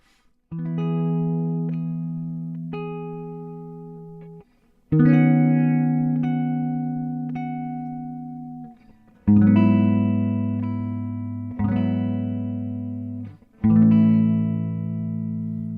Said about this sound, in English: I'm going to show you how the chords will sound with the bass notes in it